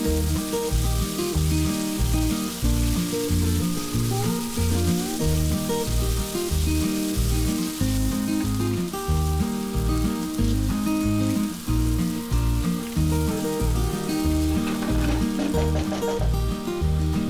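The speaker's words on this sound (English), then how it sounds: "Then add 3 onions sliced and fry the onion until it is nice and dark brown." Sliced onions fry in oil for a chicken biryani, making a dense, loud sizzle throughout under a rhythmic background pulse.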